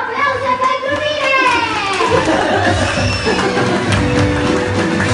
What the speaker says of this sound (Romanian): Aplauze pentru mine!